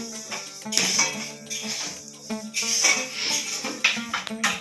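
Pot lids lifted and dishes clinking in a kitchen laid out with several cooked dishes, a busy run of metallic clatter and ringing knocks, close and loud, with people talking faintly beneath.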